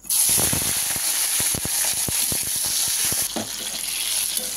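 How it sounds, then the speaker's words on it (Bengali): Eggplant slices dropped into hot oil, a bright steady hiss of frying with scattered crackling pops and a few sharp clicks, close and alone. "তেল গরমও হয়ে গেছে, আমি দিয়ে দিচ্ছি বেগুন আস্তে আস্তে।"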